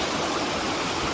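Water rushing steadily along a stone-diverted channel in the village of Misfah al Abriyeen, Oman, a close, continuous hiss and burble with no voices.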